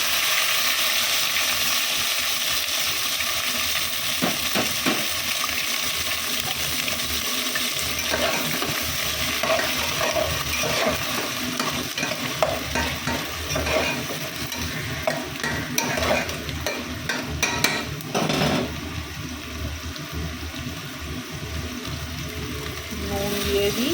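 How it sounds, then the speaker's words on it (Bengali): Bitter gourd and eggplant slices frying in hot oil in a home kitchen, a steady close sizzle running throughout with scraping stirs and clinks of a spatula against the pan. "এখানে উচ্ছে ভাজা হচ্ছে, আর এখানে বেগুন ভাজা"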